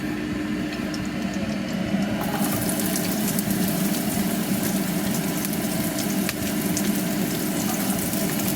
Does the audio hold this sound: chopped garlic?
yes